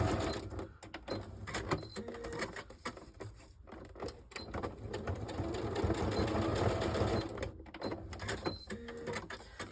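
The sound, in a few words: sewing machine stitching across paper ruffles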